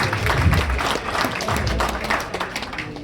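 An audience at a Chennai film success meet for Charukesi claps and cheers in a dense, continuous burst of applause that holds steady for a few seconds.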